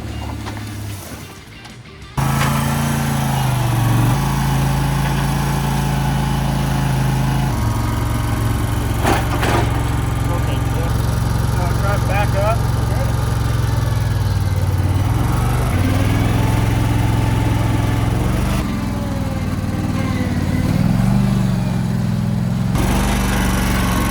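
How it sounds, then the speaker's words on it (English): A stuck lawn mower's small engine runs loud and close as it is reversed out from behind a garage, a steady droning hum with shifting pitch and revving surges throughout. "they got their lawnmower stuck behind the garage"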